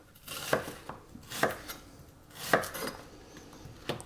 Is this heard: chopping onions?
yes